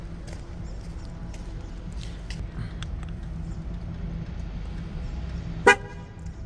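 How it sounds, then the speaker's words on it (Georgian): A single brief horn beep comes from a Ford C-Max as a tyre sensor pairs over Bluetooth. It sounds near the end after several seconds of faint, steady engine hum and light background clatter. "მანქანა მოგცემს სიგნალს."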